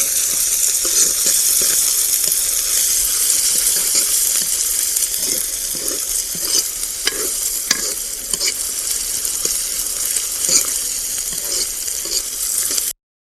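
Onions fry in a hot pan while tandoori chicken is being prepared: a loud, continuous sizzle with repeated stirring scrapes and clicks, close up and with no talking.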